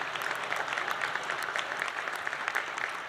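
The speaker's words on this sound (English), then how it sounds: "Only the smart people are clapping." A business-club audience at an economic address claps in a steady wash for three seconds, moderately loud and unbroken, with no voice on top.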